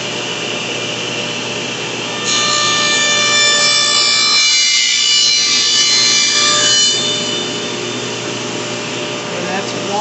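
A power saw cuts a slot in wood for a dowel rod, its motor humming steadily with a high whine, then growing louder and harsher for about five seconds while the blade bites, before easing back to an idle drone.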